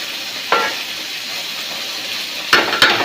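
Food fries on a tawa griddle over a gas flame, a steady close sizzle with a few short scraping stirs breaking through, one early and two near the end.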